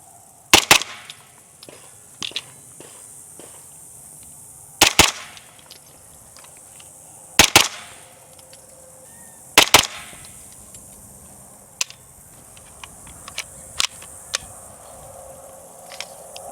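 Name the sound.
suppressed 9CT carbine firing double taps into a berm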